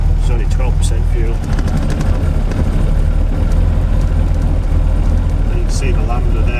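A supercharged eight-cylinder engine idles steadily with a loud, constant low rumble and a fine mechanical whir, with someone talking over it throughout.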